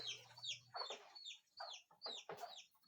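Chickens clucking in a series of short, fairly close calls, quiet overall, with no talk over them.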